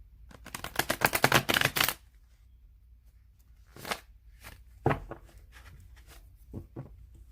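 Deck of tarot cards being shuffled up close, a dense rapid riffle of flicking cards for about two seconds, followed by several scattered softer taps and shuffles in a quiet room.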